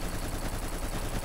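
Rapid gunfire from the video game Black, a dense continuous burst of automatic shots filling the whole moment at steady loudness.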